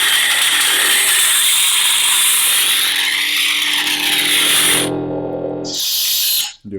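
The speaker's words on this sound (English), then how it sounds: "To hit blade lock up, you want to hold down auxiliary and hit the Saber." Blade lock-up effect from a Proffie-board lightsaber, a loud, sustained crackling buzz with a wavering hum, cutting off briefly and then bursting back before ending abruptly.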